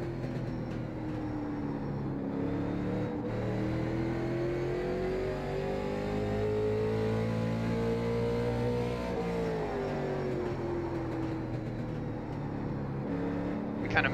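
A late model race car engine in iRacing at Martinsville, a steady droning roar that climbs and falls in pitch through the gears, moderately loud and continuous for the whole stretch.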